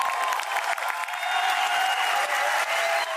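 A theatre audience applauds a play by the Peruvian company Teatro de la Plaza, with dense, steady clapping that holds at full strength without a break.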